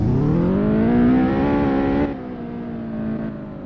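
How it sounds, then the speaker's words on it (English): A car engine in a Roblox driving simulator revs upward in pitch, then eases off, a loud, steady synthetic engine tone with no talk over it. "mimic the amount of cars that they have and a lot of car sounds, but they could definitely sound a lot more realistic"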